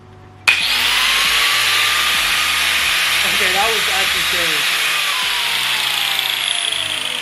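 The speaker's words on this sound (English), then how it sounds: "the 4-inch chainsaw wheel carving attachment for your grinder" An angle grinder fitted with a Harbor Freight 4-inch chainsaw wheel carving attachment cuts into wood with a loud, steady, rushing whine that starts abruptly and holds throughout, while someone talks over it.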